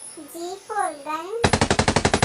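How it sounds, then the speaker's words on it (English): A short burst of rapid automatic gunfire rattles out, about ten evenly spaced loud shots, preceded by a brief sliding tonal sound. "G for gun."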